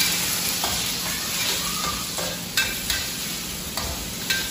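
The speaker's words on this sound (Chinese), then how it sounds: "先把这个烧猪肉炒一下" Roast pork stir-fried in a wok, a steady close sizzle with several sharp spatula scrapes and clinks against the metal, no voices.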